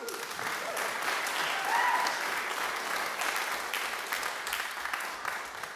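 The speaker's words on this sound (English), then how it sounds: "Let's give them all a round of applause for their commitment to enriching cultural engagement." Round of applause from an audience at a concert event, steady clapping that swells slightly midway and then gradually tapers, heard at moderate distance for several seconds.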